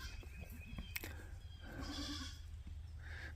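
Goats bleat as a border collie works them on a farm, with a few wavering calls rising mid-clip over steady outdoor background noise at moderate distance.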